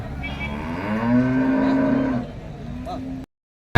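A cow moos loudly at a village cattle market, a single long drawn-out low call, with a fainter second moo following near the end and background crowd noise throughout.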